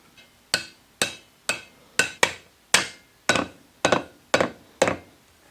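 Ten sharp metallic taps at a steady, slightly uneven pace as a bearing is hammered down onto an E90 M3 driveshaft, each hit close and clear.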